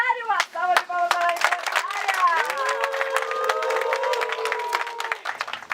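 An audience claps and cheers loudly, with dense overlapping applause and voices calling out, lasting throughout.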